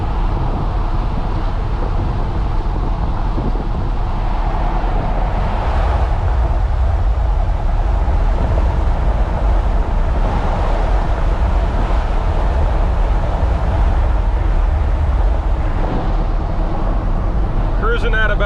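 Steady road roar from 33x12.50 AMP Terrain Attack mud tires on a diesel pickup cruising at about 60 mph, a constant low rumble with cabin hum and no distinct tire whine.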